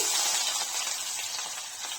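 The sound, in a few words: mustard seeds, chana dal and onion frying in hot oil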